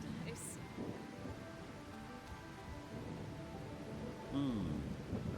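Rain falls steadily as a soft, continuous hiss in the Trails Beyond The Horizon video game, with a brief chime and tonal effect near the end.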